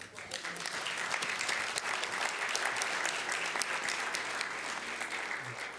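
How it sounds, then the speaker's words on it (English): Sustained applause from a crowd at a Philadelphia City Council meeting, a dense steady patter of many hands clapping for several seconds at an even loudness. "That deserves a clap."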